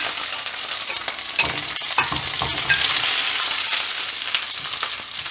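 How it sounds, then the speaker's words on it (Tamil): Garlic and brinjal fry in hot oil, giving a steady close sizzle with scraping and stirring knocks throughout. "இந்த எண்ணெயில் இந்த பூண்டும் கத்திரிக்காயும் நல்லா வதங்கணும்"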